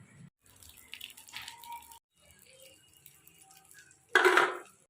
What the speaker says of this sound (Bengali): আমি ঝটপট বাসনগুলো মেজে নিচ্ছি